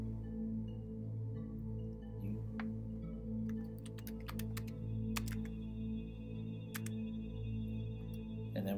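Keystrokes on a computer keyboard entering a DOS command, a scattering of sharp clicks, some clustered and some isolated, over a steady low electrical hum.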